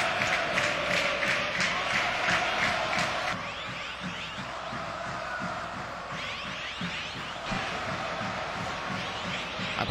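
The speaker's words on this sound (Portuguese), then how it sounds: "Aí a torcida do Botafogo, torcida tricolor aqui de Ribeirão Preto." Botafogo supporters roar from the stands at a Ribeirão Preto stadium during a 2014 Paulistão football match, a dense, steady crowd noise with rhythmic chanting and swells of cheering throughout.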